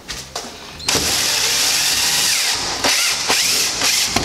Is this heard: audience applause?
no